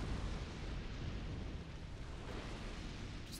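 Roaring fire attack from Dark Souls II: Scholar of the First Sin, a steady, dense rumbling burn that holds loud and close across the whole moment, with no voices over it.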